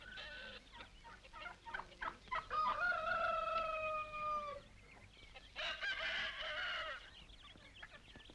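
Chickens cluck in a farmyard scene from a Mexican film while a rooster lets out a loud drawn-out crow, followed by another crowing call, with soft clucks between and no speech.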